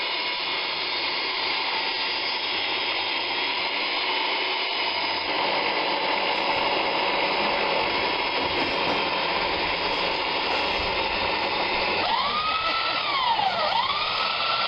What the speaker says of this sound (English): having fun with the sander